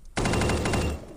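A rapid, loud burst of automatic gunfire in a Minecraft-themed anime first-person shooter game, firing continuously for about a second and then cutting off with a short fading tail.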